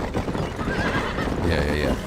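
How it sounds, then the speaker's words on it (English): A horse in the Red Dead Redemption video game gives a loud, wavering whinny close by, mixed with hoof clops and a voice speaking over it. "Shoot the horse."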